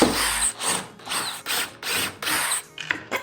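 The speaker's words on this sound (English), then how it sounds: "Pre-drill a hole." A power drill with a 5/16-inch bit pre-drills a hole in wood for a DIY jointer jig, running in about six loud, close bursts with short pauses between them.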